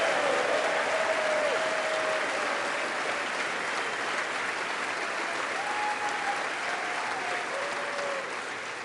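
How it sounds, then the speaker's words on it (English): A congressional audience applauds and cheers during a speech to Congress, a thick continuous wash of clapping with occasional faint whistles and shouts rising above it, steady and loud throughout before slowly easing. "the loudest cheer of the night"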